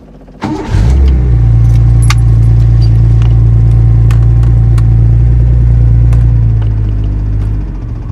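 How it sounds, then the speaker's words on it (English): A Datsun 260Z fires up from cold on choke: a brief cranking burst, then a loud, steady low idle rumble close by that eases slightly near the end, with faint key jingling. "Just so it's cold start"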